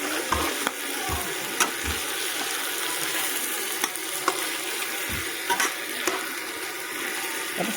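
Cucumber and ground pork stirred in a hot pan, a steady frying sizzle throughout with intermittent soft scraping and clinks of the utensil against the pan, close up and without talk.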